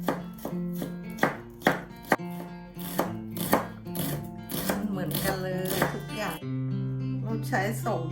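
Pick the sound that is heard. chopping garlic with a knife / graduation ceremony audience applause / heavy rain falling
chopping garlic with a knife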